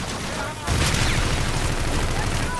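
A grenade explosion and gunfire in the Call of Duty: Infinite Warfare campaign, with a sudden loud blast that becomes a dense, sustained roar of shooting and rumble while voices talk over it.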